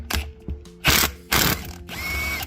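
Ratchet wrench loosening reverse-threaded bolts on a Honda differential: several close, loud bursts of clicking pawl and metal rasping, separated by short pauses, with no talking.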